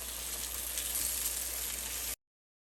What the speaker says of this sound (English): It just takes less than 2-3 minutes to fry this patra